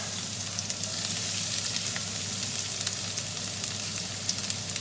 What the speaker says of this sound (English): just heating some olive oil in the pan, putting the onions in